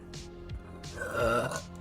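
A single low, drawn-out burp from a woman, close and fairly loud, with a brief vocal sound before it.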